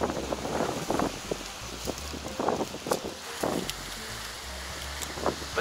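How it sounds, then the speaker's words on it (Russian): Steady, gusting wind buffets the microphone outdoors at a holiday resort in Lemvig, Denmark, a constant rushing roar with irregular louder bursts and rustling, no voices. "здесь конкретный ветер, постоянный ветер."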